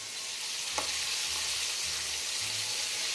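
Oil sizzles and crackles steadily as chicken fries in a pan, a dense hiss with low thuds of stirring or shifting food underneath.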